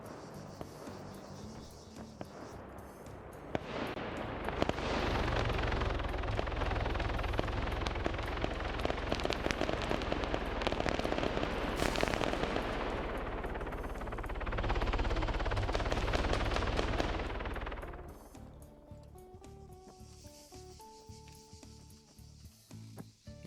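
Sniper gunfire in the DayZ video game, with a helicopter nearby during a PvP operation: a dense, loud roar of shots and rumble that swells and fades twice, then gives way to quieter tonal game sounds, with no talking.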